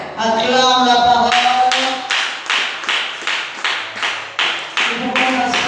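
A congregation in a church service breaks into loud, steady rhythmic clapping in unison, following a sung passage; the claps fill the room at an even pulse.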